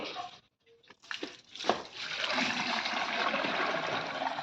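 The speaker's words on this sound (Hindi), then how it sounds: "तो कपड़े से छानकर हम पानी डाल रहे हैं" Water is poured through a cloth filter into a camper cooler, flowing steadily with a soft rushing splash, preceded by a few clunks and handling noises, recorded close by.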